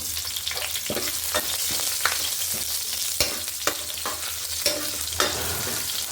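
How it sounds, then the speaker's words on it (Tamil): Green chillies frying in oil with sautéed garlic for a traditional manathakkali rasam: a close, steady sizzle with irregular clacks and scrapes of a stirring spoon, no voices. "பூண்டு வதங்கியவுடன் பச்சை மிளகாயை சேர்க்கவும்."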